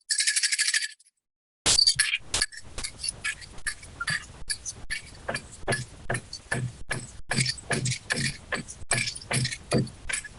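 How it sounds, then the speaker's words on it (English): Bells sewn on a straight dancer's outfit jingle in repeated bright bursts with a steady stepping rhythm, close and fairly loud, after a short opening hiss and a brief silence. "you could probably hear the bells."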